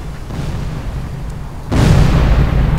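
Torpedo striking a ship in the submarine game Silent Hunter 4, a low rumbling roar that suddenly surges into a loud, heavy explosion blast continuing to the end.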